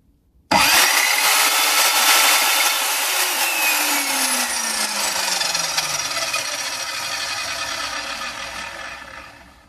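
An Evolution R210SMS sliding mitre saw whines up to speed and bites into wood, a loud, sustained high-pitched cut that slowly winds down after about nine seconds.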